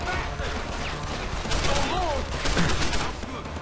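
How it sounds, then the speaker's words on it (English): Rifle gunfire in Deus Ex: Human Revolution during a gang territory fight, with a burst of several sharp shots midway through over ongoing game sounds. "There's my rifle."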